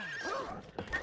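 A horse in the video game It Takes Two gives a short, sharp neigh and whinny, followed by a couple of hollow clip-clop hoof knocks, heard close and alone.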